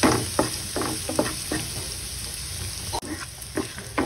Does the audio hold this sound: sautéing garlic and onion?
yes